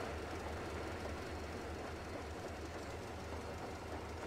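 Steady clattering rumble of a train rolling along rails in the video game Metro Exodus, continuous and fairly close, with a low engine drone underneath and no talk.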